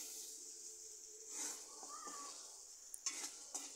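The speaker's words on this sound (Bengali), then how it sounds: "এই কাঁচামরিচ দিয়েও আবার ভালো করে মশলা লাড়িয়ে চাড়িয়ে দিচ্ছি।" A spoon stirs spice paste with green chillies in a pan for a bean dish, giving soft scraping and gentle sizzling with a few sharp clinks of utensil on metal near the end.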